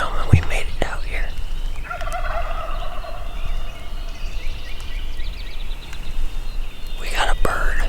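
A Merriam's wild turkey gobbler gobbles at a distance outdoors in rough terrain, rising into a rattling burst of calls in the middle of the stretch over steady background noise, with faint whispering now and then.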